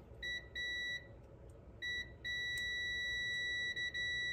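Multimeter continuity beeps while probing across two pins on a Chinese mini excavator's alternator: a clear electronic tone in several bursts, some short and one long, each stopping and starting in an uneven rhythm, with no talk.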